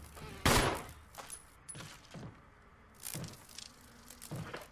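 Gunfire in the video game Resident Evil Remaster: one loud burst near the start, followed by several quieter sharp impacts spaced through the clip over a low game background.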